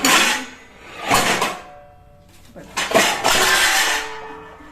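Dishes clatter and clink in bursts, with pauses between, as though being stacked or moved nearby; no one speaks.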